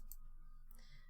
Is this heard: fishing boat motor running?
no